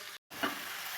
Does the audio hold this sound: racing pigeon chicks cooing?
no